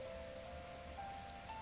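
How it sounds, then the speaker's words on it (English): Heavy rain in a video game pelts a rooftop all around, a dense, steady patter with a faint tonal hum running beneath it. "Raindrops are pelting the rooftop all around me"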